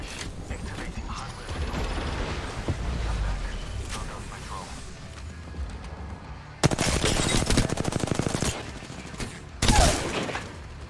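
Rapid automatic gunfire in a shooter video game, a steady background of mechanical clatter followed by two loud, dense bursts of fast repeating shots, the second one shorter.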